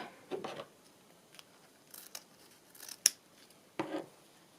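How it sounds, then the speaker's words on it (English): Scissors snip a piece of fabric trim for a handmade accordion journal, giving several quiet, separate crisp cuts spaced irregularly against a near-silent background. "Could just cut that piece off."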